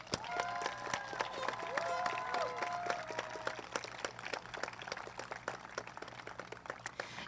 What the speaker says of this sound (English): Please join me in giving these students a strong round of applause